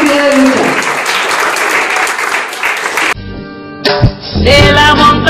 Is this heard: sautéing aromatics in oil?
no